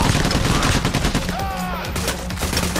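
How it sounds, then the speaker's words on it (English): Gunfire in the heist shooter PayDay The Heist, a dense burst of loud, rapid shots filling the whole stretch with game noise and a faint voice underneath. "I just shot somebody head off and just cap flew in the air."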